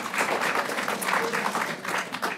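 Audience applause in a French lecture hall during a talk by an author, a steady dense wash of many hands clapping that fills the whole moment at moderate loudness, with no voices on top.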